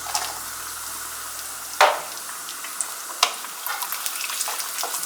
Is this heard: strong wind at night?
no